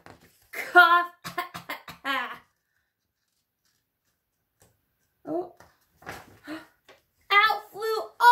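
A voice imitates coughing while reading a children's story aloud, giving several short, harsh bursts in two groups separated by a silent pause.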